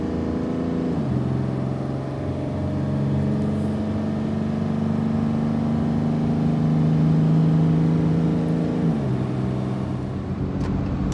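A truck hauling an air compressor drives along, its engine a steady close drone with a gear change near the start and another shift near the end, no talking.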